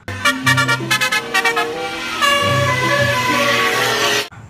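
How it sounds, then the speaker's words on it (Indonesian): A toy telolet bus horn blares a loud, melodic run of quick repeated toots, then holds a sustained chord before cutting off abruptly. "Wow, ini ada bus telolet."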